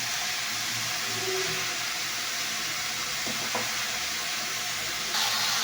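Mustard and spices stirred in a frying pan give off a constant hissing sizzle, with a couple of soft scraping knocks from the stirring near the end and a brief louder burst at the close, no voices.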